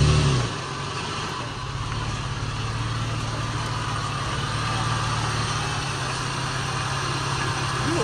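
Toyota FJ Cruiser working hard over off-road terrain, a steady loud engine drone with low rumble and broadband road and tire noise holding constant throughout.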